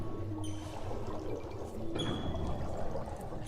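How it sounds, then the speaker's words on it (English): Water flows in SimCity 2013, a continuous soft pouring and trickling texture with faint drips, steady and moderately quiet with no voices. "water is going to start flowing in and around."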